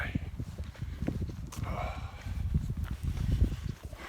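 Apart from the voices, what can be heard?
horse hooves clip-clopping on road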